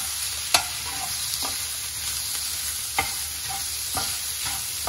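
Black chana usal being sautéed and stirred in a pan for a Maharashtrian recipe, a steady soft sizzle with a few sharp spoon clinks against the pan, close and alone with no talking.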